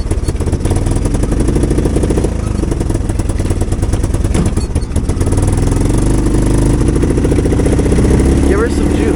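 A golf cart fitted with a swapped three-wheeler motor roars loud and close, its engine clattering and revving with rising and falling pitch while people talk over it.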